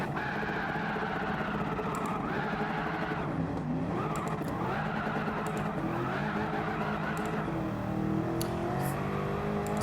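Lexus RC F with a swapped engine in the Gran Turismo 7 racing game, accelerating hard with repeated rising engine revs and gear changes, and tire squeal mixed in, loud and steady throughout.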